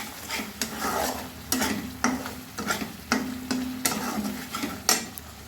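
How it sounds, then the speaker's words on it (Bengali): Spice paste for a fish curry made with river sarputi fish, tomato and coriander stirred and sautéing in a pan, with a steady sizzle broken by repeated scraping strokes of a spatula, close up and with no one speaking. "আবারও কষিয়ে নেব 2-3 মিনিট মতো।"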